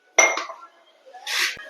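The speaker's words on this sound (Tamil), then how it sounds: "இப்போ நம்ம மிக்ஸி கப்பை கழுவி ஊற்றிக்கலாம்" A mixer jar being rinsed and poured into a pot of fish curry gives two brief metallic clatters and clinks of dishes, close and distinct with a short pause between them.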